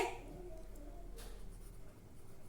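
A pen scratches across paper while an accounting journal entry is written out, a soft continuous rasp against a quiet background hum, with no speech.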